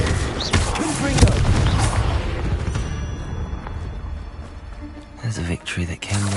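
The Confringo explosion spell in the Hogwarts Legacy video game lets off a loud, close burst of blasts and booming rumble, trailing into a softer hiss, with more sharp impacts and talk afterward.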